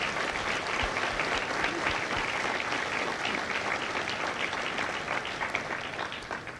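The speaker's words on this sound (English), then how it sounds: "let's give these family members a round of applause." Steady, full applause from a crowd at a Marine Corps Recruit Depot graduation ceremony, held at an even level for several seconds before easing slightly at the end.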